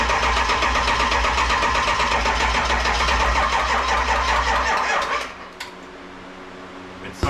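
A 7.3 Powerstroke diesel cranks loudly with a steady, rapid starter chug for about five seconds, then slows and stops, leaving a faint hum with a brief clunk near the end.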